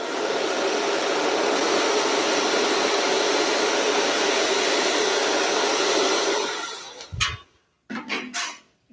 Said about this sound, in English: Give yourself a bit of help with a bit of a hair dryer